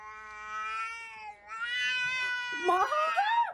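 A cat yowls loudly and close up in long, wavering drawn-out cries, rising into a strained, warbling caterwaul at the end.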